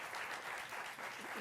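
A studio audience applauds guests on a televised debate show, a brief, steady burst of clapping from many hands, fairly faint and without any voices over it.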